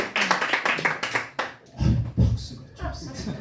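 An audience claps at a business-trip report meeting with a short burst of scattered, brisk hand claps at the start, then a voice talks over the fading sound.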